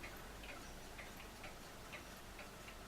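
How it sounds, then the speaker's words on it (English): A Toshiba clock on a mantelpiece ticks steadily at an even, regular pace, each tick crisp and moderately close, heard alone against a quiet room hiss with no talking. "clock on the mantelpiece"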